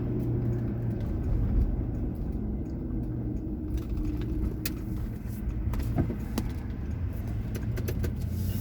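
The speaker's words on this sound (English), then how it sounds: "I thought that was a truck, and it was like one of those little midget cars" A small car passes on a road in Florida, with a steady engine and tyre rumble that stays fairly constant, plus light jingling rattles on top and no talk.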